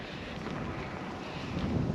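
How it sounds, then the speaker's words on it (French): Cool 8 a.m. breeze outdoors near a small lake or pond, a soft steady wind rumble buffeting the microphone for a couple of seconds, growing slightly stronger at the end, with no voices. "Il y a toujours un petit vent frais là."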